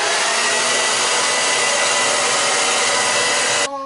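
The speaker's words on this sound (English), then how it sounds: "then you blow dry to lock in the color" A hair dryer blows steadily and loudly on freshly dyed purple hair, a continuous whooshing roar that cuts off abruptly near the end.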